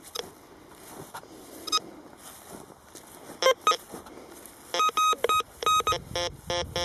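Anterak CS6MX metal detector giving short repeated electronic tones for ferrous metal near a polluted path edge, several brief beeping bursts, clustered toward the end, over faint outdoor rustle.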